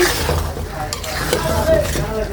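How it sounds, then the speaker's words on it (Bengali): Pickle (achar) being stirred in hot oil in a pan, a soft continuous scraping and gentle sizzle with occasional light clinks of the spoon, close and steady throughout. "আমি আলগা করে ইনশাল্লাহ নেড়ে নেড়ে দিচ্ছি"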